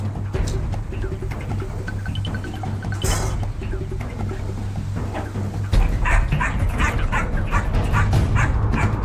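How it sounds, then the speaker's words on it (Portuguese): Belgian Malinois puppies bark and yip in quick excited bursts, with some whimpering, loud and close for several seconds, over a low steady hum and a few faint voices. "olha o drive desses filhotes, Ômega e Beta"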